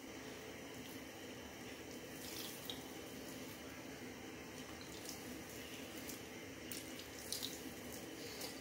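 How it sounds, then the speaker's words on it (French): Water is poured onto store-bought couscous to moisten it, a steady faint splashing and trickling flow lasting several seconds without pause. "je vais juste le mouiller avec un peu d'eau"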